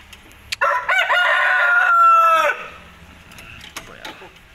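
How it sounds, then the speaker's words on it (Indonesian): A Burmese-Bangkok crossbreed rooster crows once, a loud, close, drawn-out cock-a-doodle-doo lasting about two seconds, followed by quieter background noise. "Kalau ini ayam Birma, Bangkok Birma"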